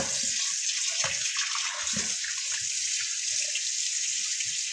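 Running tap water splashing steadily while a Cornish hen is rinsed under it, a continuous hiss with uneven gurgles and spatters as the bird shifts in the stream.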